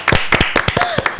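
A few people in a Korean financial broadcast studio clap their hands together, a quick burst of close, sharp claps mixed with brief voices.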